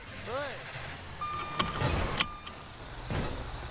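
A truck engine rumbles and shifts as it maneuvers in a GTA roleplay game, with mechanical clicks and whirs over steady low noise and a brief voice.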